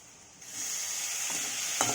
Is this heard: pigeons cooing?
no